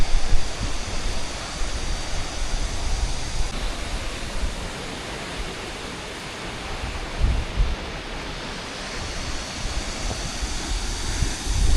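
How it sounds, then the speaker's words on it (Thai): Steady, dense roar of a twin waterfall at Tad Fane in Laos, with water pouring down on two sides; a loud, continuous broadband rush that swells slightly at times, with no voices. "น้ำตกเป็นสองฝากเลย"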